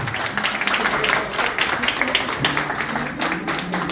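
Applause from an audience at a family meetup stage event, a dense steady patter of many hands clapping throughout, with voices mixed in.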